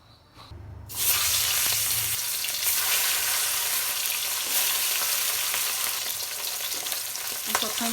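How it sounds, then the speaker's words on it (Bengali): Oil hits a hot wok for frying fish and bursts into a loud, close sizzle after a quiet second, then crackles on steadily with small pops. "মাছ ভাজার জন্য তেল দিয়ে দেবো কড়াইতে"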